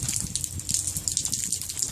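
Water rushes steadily from an opened valve, a constant close hiss with a slightly fluctuating gush throughout, no talk over it.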